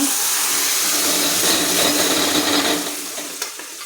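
Vegetables fry in hot oil with a loud, dense, close sizzle that fills most of the stretch before easing lower toward the end, with a faint tap near the close.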